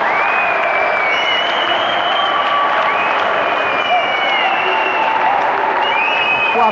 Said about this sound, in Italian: ecco questo tra gli applausi del pubblico